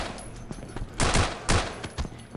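SMG fire in the Afraid Of Monsters game, short bursts of rapid shots with two heavier clusters close together mid-stretch, near and fairly loud over a low ambient backdrop.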